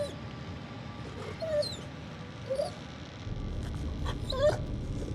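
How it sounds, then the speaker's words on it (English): A dog whimpers and yips in the horror video game The Devil in Me, giving short, high, plaintive whines against a low ambient drone. "It is a dog."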